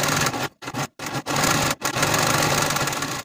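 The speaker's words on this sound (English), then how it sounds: "we're going to take it to our serger and serge all around the entire outer edge of this facing" A serger runs along the outer edge of a garment facing, its motor whirring loud and close in long runs broken by a few brief stops.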